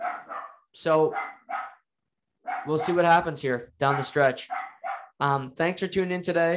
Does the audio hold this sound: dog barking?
yes